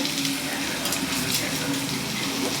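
Small onions fry with salt in a pan for a pond-fish curry, giving a steady close sizzle and crackle with a faint bubbling tone throughout.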